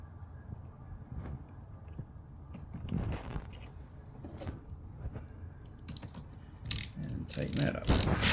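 A ratchet tightens a nut on a battery terminal stud in a Jeep Wrangler JK during a switch panel install, with irregular clicking pawl bursts and mechanical rattles growing louder toward the end.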